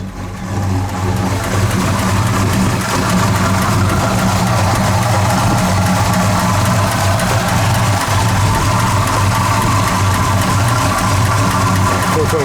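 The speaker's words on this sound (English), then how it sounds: "That 427 just thumps," A 1969 Chevrolet Impala SS with a 427 V8 idles loudly up close, its deep, steady rumble continuous and throbbing throughout.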